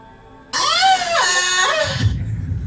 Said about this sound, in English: I yelled!